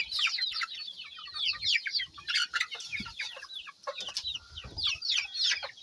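Chickens cluck and chatter steadily while pecking at bananas, a busy overlapping flock of short calls close by with no talk.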